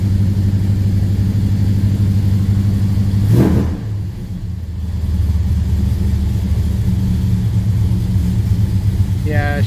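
A 1970 Plymouth Road Runner's engine rumbles steadily while driving, a deep continuous drone that briefly surges and dips a few seconds in before settling back to a constant cruising growl.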